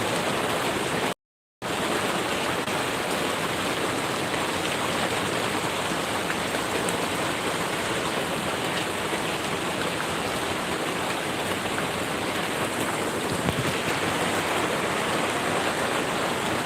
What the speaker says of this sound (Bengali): সবাই জানো যে আমাদের বৃষ্টি হচ্ছে